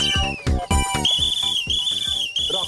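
A loud, sustained, high-pitched whistle, coming from a whistle lodged in a man's throat, wavers on and off over a busy background of rhythmic thumping sounds.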